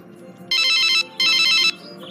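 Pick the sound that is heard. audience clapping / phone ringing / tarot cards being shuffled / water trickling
phone ringing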